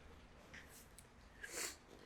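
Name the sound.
blowing nose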